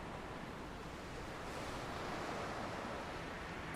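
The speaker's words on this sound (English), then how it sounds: "Nothing but the sound of waves crashing against the shore." Steady ocean surf washing against a shore at night in an anime-style game cutscene, a soft continuous roar that swells slightly midway, with no voices.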